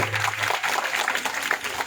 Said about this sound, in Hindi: आप सभी एक बार जोरदार ताली बजाए